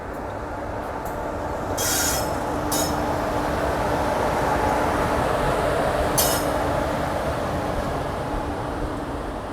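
A Porbandar–Rajkot passenger train rumbles steadily past close by at Vansjaliya Junction, wheels grinding and squealing on the rails, with a few metallic clinks and no talking.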